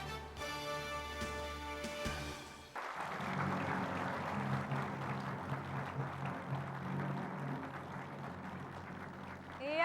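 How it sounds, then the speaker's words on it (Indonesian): Studio audience applause on an Indonesian television talk show, a dense sustained clapping wash that swells in after a short stretch of music and carries on loudly to the end. "sekali lagi tepuk tangan untuk Bang Din"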